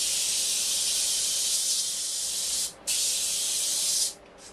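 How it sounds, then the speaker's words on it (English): A spray gun hisses steadily while applying gesso coats for water gilding, a loud continuous spray with one short pause and a stop near the end. "with my spraying I can get the next two coats on very quickly"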